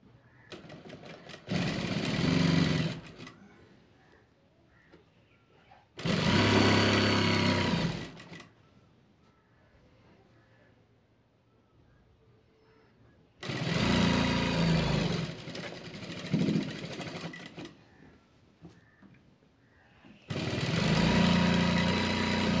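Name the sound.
sewing machine stitching a blouse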